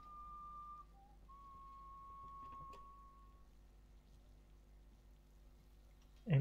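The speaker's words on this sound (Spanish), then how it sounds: "No sé si ustedes escuchan el chiflido" A steady whistling tone, thin and high, holds for a few seconds, breaks briefly and then resumes, faint against a quiet room hum, with a sudden clatter at the very end.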